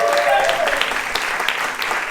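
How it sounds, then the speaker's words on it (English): A live English comedy show audience claps loudly in a full, steady burst of applause, with a voice briefly over it. "Give me a round of applause if you've ever seen an inconspicuous comedy show before."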